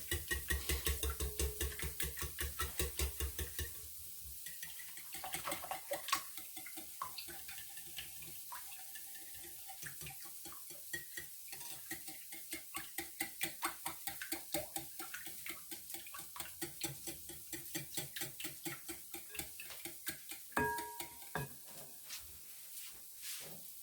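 A wire whisk beats an egg mixture in a bowl, breaking up the yolks with a quick, steady run of light clicking taps that holds at a fairly quiet level, stops briefly, then resumes.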